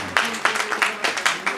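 Hands clap in a quick, even rhythm at a Hindi comedy poetry gathering, about seven crisp beats in under two seconds, fairly close and moderately loud with no talk over them.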